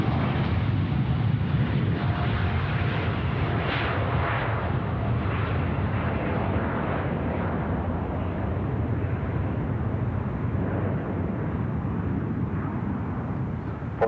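Airliner arriving at Sydney Airport, a loud, steady broadband jet roar that fills the whole stretch without letup, low rumble dominant as the aircraft passes close overhead.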